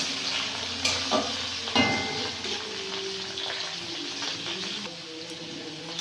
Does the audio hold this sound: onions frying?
yes